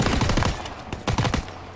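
Rapid gunfire in the Call of Duty WWII video game, with dense bursts of shots crowding the first half second, a brief lull, then another loud volley around the one-second mark before tailing off.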